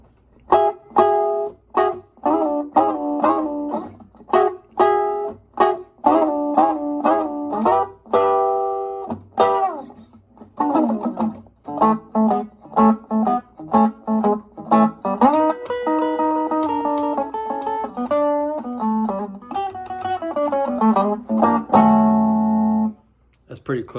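Electric blues guitar in an early Chicago style, running through a full verse with a slide into a turnaround. Plucked notes and chords come in quick rhythmic bursts, close and loud, with no talking over them.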